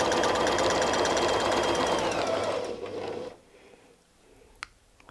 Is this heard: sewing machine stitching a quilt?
yes